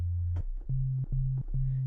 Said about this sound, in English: So without any distortion, here's a sine wave.